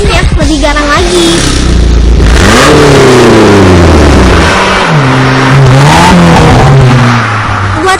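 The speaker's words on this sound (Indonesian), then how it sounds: "dan mode racing yang tentunya lebih garang lagi." A car fitted with a remote-controlled Valvetronic racing exhaust in racing mode revs hard several times, its aggressive note climbing and falling in loud, close pulls, with rough idle between the bursts.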